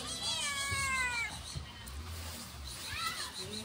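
Meowing from a stray mother cat and her kitten outdoors in the mountains, rising and falling cries clear in the foreground with a second burst of meows near the end over a steady outdoor background.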